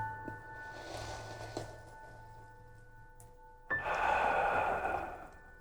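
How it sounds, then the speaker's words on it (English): A slow, deep breath, a long airy inhale followed by a fuller, louder exhale, close to the microphone in a quiet room with no speech. "let's take a deep breath together"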